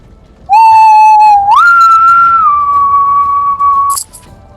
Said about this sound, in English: You hear that whistling getting louder, Jack, coming from the center at the bandsta